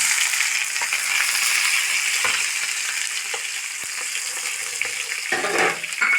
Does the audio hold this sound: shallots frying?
yes